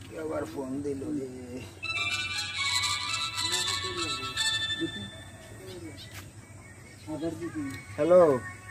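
A mobile phone rings with a short electronic melody during a Sylheti comedy skit, the tone rising clearly for a few seconds while people talk around it.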